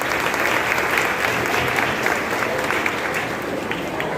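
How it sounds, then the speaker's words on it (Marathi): A seated crowd at a Marathi school felicitation ceremony claps steadily to welcome a local MLA, a dense, even wash of applause lasting several seconds with no voices over it. "सगळेजण आमदार साहेबांचं टाळ्या वाजून स्वागत करूया."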